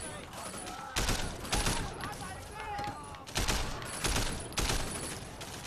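Bursts of assault rifle fire in the Sleeping Dogs video game, several rapid volleys in separate clusters, fairly loud and close with game ambience between them.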